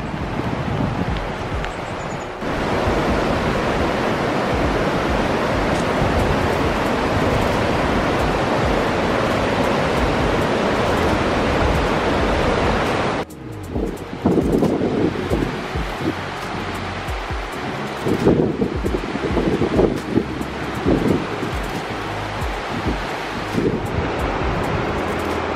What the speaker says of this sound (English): Oh, rain's getting a bit heavier now,